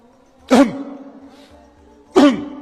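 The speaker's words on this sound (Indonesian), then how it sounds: "Gimana cara berdehem yang benar?" Two loud, close throat clearings, spaced more than a second apart, with quiet between them and no talking.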